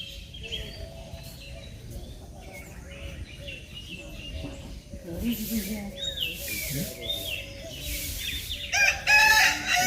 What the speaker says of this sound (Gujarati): કુકડે કુક